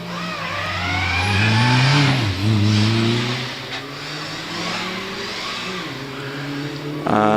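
Mazda MX-5 1.8 litre race car accelerating hard at a hillclimb, a loud, close engine rising in pitch through several gear changes with a brief lift partway through, no talk.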